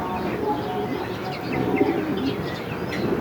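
Pigeons coo softly amid a busy, cluttered background of faint chirps and rustling, with no clear speech.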